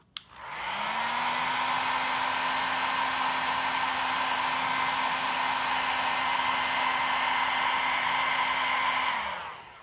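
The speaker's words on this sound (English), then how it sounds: "then I'm gonna use the hairdryer to warm the area until I feel a little zap" A hair dryer blows steadily for several seconds to warm an acupuncture point through cardboard, switching on with a click, running at an even, loud whine and winding down at the end, with no talking.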